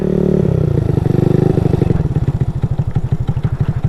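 A Honda Ruckus scooter, modified for higher speed, revs loudly up close, then settles into a fast, throbbing, pulsing engine note as it rides off on a short loop.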